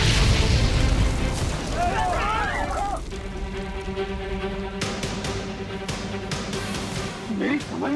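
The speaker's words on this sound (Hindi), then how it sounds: "सिर्फ सीट्स और लगेज के जलने के कारण ये इतना जोर का धमाका कैसे हो रहा है?" A burning train's fire lets out a heavy, booming blast that rumbles loudly and then settles into a sustained roar, with voices calling over the din.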